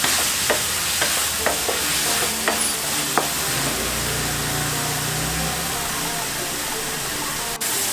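Masala with red chilli cooking on a gas stove, a steady close sizzle and hiss with a few spoon knocks early on, continuing alone at an even level.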